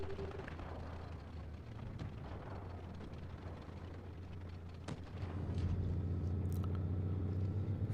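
Engine of a Tier IV German heavy tank in World of Tanks Blitz rumbling as it speeds up, a low droning roar that swells louder near the end, with scattered faint clicks and thuds and no talk.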